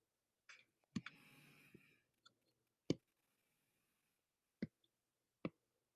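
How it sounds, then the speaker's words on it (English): A handful of sharp, isolated clicks spaced irregularly across an otherwise quiet stretch, with a faint brief rustle near the start; close and crisp, no talking. "I hear some clicking."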